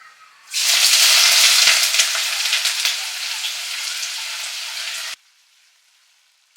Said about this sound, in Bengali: এটা ফোড়ন অ্যাড করছি, আর পেঁয়াজগুলো প্রথমে ভেজে নেব।